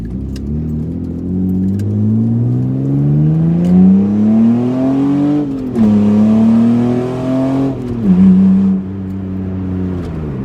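A 2003 Mitsubishi Eclipse GT engine with a cold air intake revs up steadily, dips, then climbs again, a loud droning roar with a faint whistle riding on top, close by and without talk.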